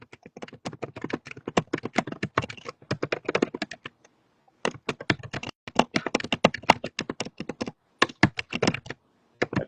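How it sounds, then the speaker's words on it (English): Fast, close typing on a laptop computer keyboard during a live stream, with dense bursts of clicking keys broken by a brief pause midway, no voices. "That typing's kind of loud, Michael."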